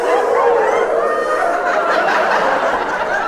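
A comedian's voice imitates a dog barking in the distance, a sustained, strained yowling howl held loud and continuous for a few seconds without pause.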